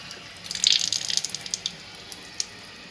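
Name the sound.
water running through K8 water ionizer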